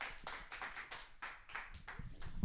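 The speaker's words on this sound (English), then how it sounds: "Please give a warm round of applause to both our authors tonight" An audience at a book event applauds two authors with a brisk, dense clapping that rises and falls in waves, moderately close and steady for a couple of seconds.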